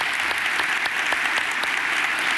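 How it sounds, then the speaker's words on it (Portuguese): A congregation at a church service bursts into sustained, loud applause, a dense wash of many hands clapping steadily throughout with no one speaking. "Vamos aplaudir a Jesus?"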